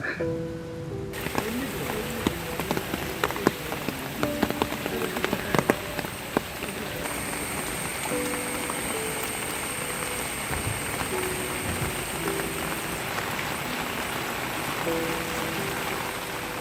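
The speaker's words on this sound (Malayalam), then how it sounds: "ഇന്നലെ രാത്രി മുതൽ തുടങ്ങിയ കനത്ത മഴ തുടരുകയാണ്" Heavy rain roars steadily and continuously while a person speaks over it.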